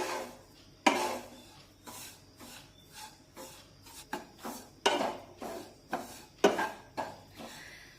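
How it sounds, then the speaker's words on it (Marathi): Semolina and grated coconut being stirred and roasted in a pan over low heat, a spoon scraping and rasping against the pan in a regular rhythm of strokes, close and clear with no talk. "रवा आणि खोबरं व्यवस्थित भाजून घेऊया परतून घेऊया"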